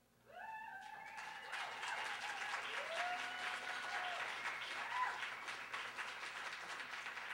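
Steady audience applause at a spoken word festival in Calgary, a dense wash of clapping that swells in quickly and holds for several seconds, with a few faint voices mixed in.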